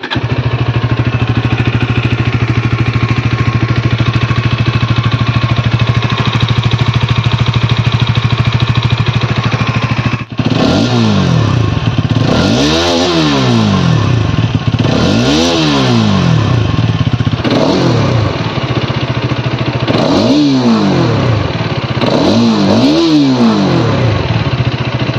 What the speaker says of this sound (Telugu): ఇప్పుడు బైక్ యొక్క ఎగ్జాస్ట్ సౌండ్ ని విందాం ఫస్ట్ ఆఫ్ ఆల్ స్టార్ట్ చేసి